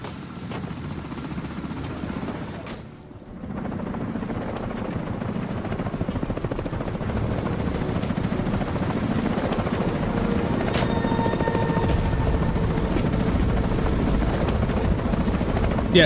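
A helicopter in the video game The Division gives a loud, continuous rotor and engine drone. It briefly dips, then holds steady and close with no talking.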